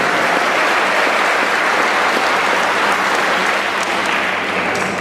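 Sustained, loud applause fills a middle school promotion ceremony as the crowd honors students, an even and unbroken roar of many hands clapping at close range without any speech.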